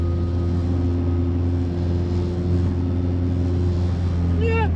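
A K20-swapped Honda Civic EJ1 engine idles with a steady, loud low rumble and constant droning hum throughout, heard from close by.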